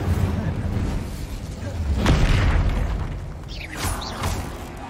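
An Incendio fire spell is cast during Hogwarts Legacy combat, with rumbling whooshes and booming bursts layered over dense battle noise and a voice.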